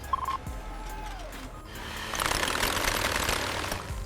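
A short electronic tone and a falling whine give way to a loud, rattling mechanical drilling noise from a tunnel drilling rig starting in a mountain, building and continuing steadily.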